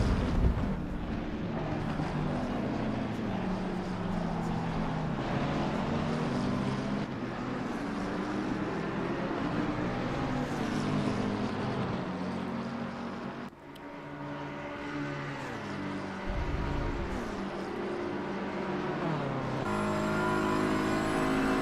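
Racing cars lap Bathurst in a sim race video game, a dense, continuous roar of several engines droning together, with rising and falling pitch as gears shift and cars pass close by.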